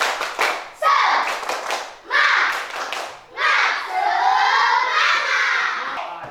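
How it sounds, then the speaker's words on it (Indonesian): A school class performing a rhythmic spirit clap, bursts of patterned group clapping mixed with children chanting and shouting together, loud and close in a classroom. "Semangatnya dulu ya, tepuk semangat."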